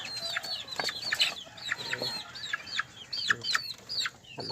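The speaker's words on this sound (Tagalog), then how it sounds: "Ayan, may mga sisiyo rin tayo dito guys." Pet chickens and small chicks cluck and cheep in a busy, overlapping chorus, with repeated high chirps and short clucks close by, plus a brief flutter of wings.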